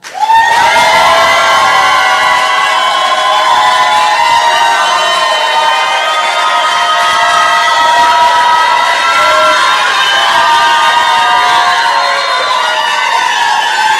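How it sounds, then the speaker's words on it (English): A crowd at a New Jersey Democratic gubernatorial debate cheers and applauds to welcome a candidate, a loud, dense roar with whoops that holds steady for the full fourteen seconds. "this is the time you all are all allowed to break the rule and show your appreciation with applause"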